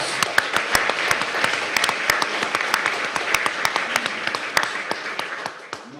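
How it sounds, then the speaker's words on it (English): Applause from the audience at a school board meeting honoring an eighth-grade student, a sustained spread of many hands clapping with sharp individual claps standing out, fading slightly at the end. "Please give her a round of applause."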